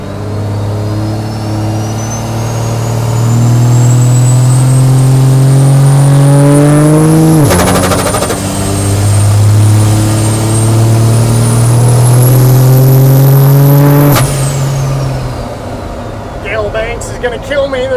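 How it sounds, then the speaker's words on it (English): A Cummins diesel engine in a 1963 Chevy C60 truck roars loud and close, revving up in long sustained pulls with a rising turbo whine, a brief drop mid-rev, then settling back toward idle. "There's this compressor surging."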